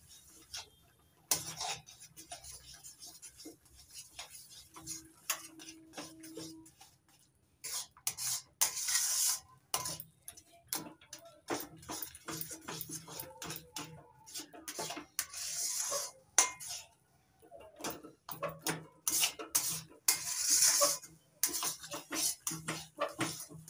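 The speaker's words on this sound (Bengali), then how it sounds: "এবার দিয়ে দিচ্ছি 1 বাটি সুজি। এবার নাড়াচাড়া করে ফুটিয়ে একটা ডো তৈরি করে নেব।" Spoon stirring semolina into boiling water in a pot to form a dough for a potato tea-time snack, with repeated scraping and clinking strokes in irregular bursts, fairly close.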